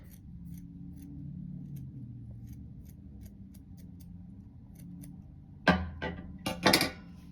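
Scissors trimming craft material for Christmas decorations, with a quiet stretch followed by a handful of crisp, close snips near the end.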